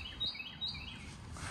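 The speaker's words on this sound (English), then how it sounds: "we have to deal with loud-ass birds" Birds chirp outdoors in a few sharp high tweets over a low steady background rumble, with no talking.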